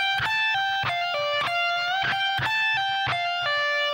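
A distorted electric guitar repeats a short lead phrase from a guitar solo twice in a row, rapid picked notes with small bends and sustained vibrato tones, loud and alone.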